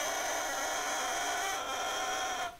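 A bassoon reed played alone in a loud, sustained crow, a bright buzzing squawk held steady for over two seconds before cutting off, close and with no talk.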